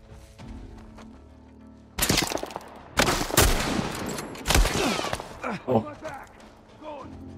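Gunfire in The Last of Us: sharp bursts of shots from about two seconds on, loud and clustered, with scattered thuds and someone talking at moments over the game noise.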